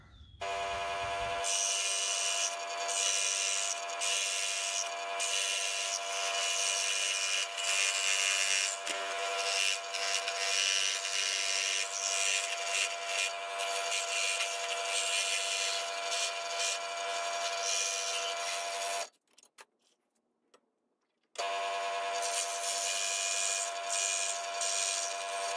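Hand tool cutting a tiny 70mm wooden shallow-diver fishing lure body, a steady close scraping rasp that runs continuously, breaks off for about two seconds, then resumes.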